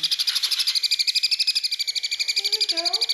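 Four-week-old baby conure parrots chirp at feeding time in a rapid, steady stream of shrill, high tweets close by, with a few lower squeaky calls near the end.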